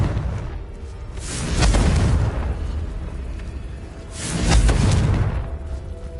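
Two booming Confringo spell explosions in Hogwarts Legacy, each a heavy, rumbling blast that swells and fades, spaced a few seconds apart with no voices over them.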